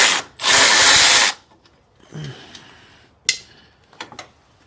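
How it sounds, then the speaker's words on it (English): Power tool loosening 10 mm bolts on an 8th-gen Honda Civic Si during a motor mount swap: one loud, sustained burst of drilling whine, followed by quieter clinks and short metallic taps. "these bolts right here, 10 millimeters. Loosen these."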